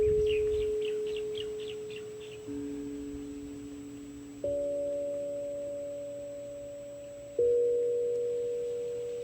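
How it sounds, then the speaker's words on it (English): Sustained pure ringing bell tones sound one after another, each holding steadily and fading slowly before the next strikes at a different pitch, with a short burst of faint high chirping at the start. "The ringing of the bell promotes a sort of mindfulness"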